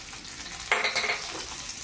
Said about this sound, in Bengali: পেঁয়াজটাকে লাল লাল করে কিছুক্ষণ ভেজে নিই।